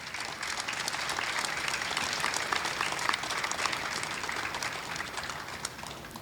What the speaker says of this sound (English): So I want to give a round of applause to everyone involved in this great project.